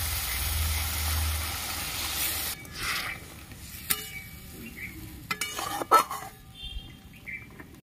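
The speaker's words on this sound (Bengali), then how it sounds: "পরিমাণ মতন গরম জল দিয়ে দিচ্ছি" Hot water goes into sizzling spices cooked in oil for a Bengali fish curry, giving a loud hiss and sizzle in the first seconds that quickly dies down to quieter bubbling with a few clinks of a utensil.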